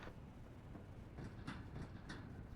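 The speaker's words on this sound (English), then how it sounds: "and there's a train down there too." A train passes in the video game Into The Dead: Our Darkest Days, a faint, distant rumble with soft rhythmic clicks and clanks from the rail cars rolling by.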